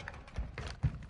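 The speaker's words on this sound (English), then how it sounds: "Switching mags." Magazine swap on a gun in Call of Duty multiplayer, a quick run of faint mechanical clicks and thuds, with one firmer clack near the end.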